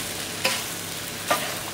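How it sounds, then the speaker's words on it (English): Mixed vegetable rice stir-frying in a hot pan, a constant close sizzle broken by two sharp scraping strokes of the spatula about a second apart. "This is going to be stir fry rice."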